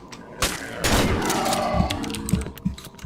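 Rapid bursts of gunfire in the survival horror game Cry of Fear, loud volleys and several sharp reports over about three seconds, with a voice partly mixed in.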